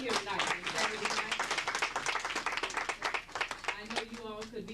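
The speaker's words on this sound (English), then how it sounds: "I think you all should keep clapping." An audience at a Saturday night evening event claps steadily and loudly throughout, and a voice carries on over the applause.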